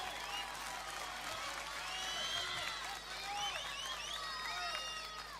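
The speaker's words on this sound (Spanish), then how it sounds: "Fuerte el aplauso, mi compa" Crowd applause at an outdoor live folk music festival in Río Gallegos, a continuous even wash of clapping with faint cheers and whistles throughout.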